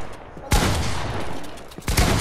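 Shotgun blasts from a video game: two loud, booming shots about a second and a half apart, each with a sharp crack and a short rumbling tail, over steady game background noise.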